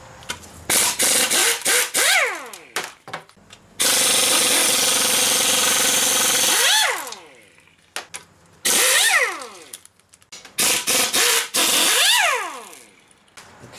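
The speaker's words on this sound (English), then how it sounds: "We're going to loosen the bolts for the bearing retainer." Power tool bursts loosening the bolts of a bearing retainer on an F4A42 transmission during teardown: several short loud rattling bursts, a long sustained hammering run, then more bursts with whining spin-down tails, no talk.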